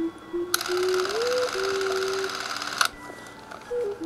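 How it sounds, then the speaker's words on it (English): Bell & Howell T20XL compact film camera firing its shutter and advancing the film: a sharp click, then a sustained close-up mechanical whir lasting about two seconds that ends in another click, with a brief whir afterward. "with this camera, the shutter button is right here in the front of the camera"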